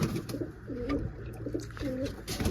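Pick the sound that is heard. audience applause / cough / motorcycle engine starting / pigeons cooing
pigeons cooing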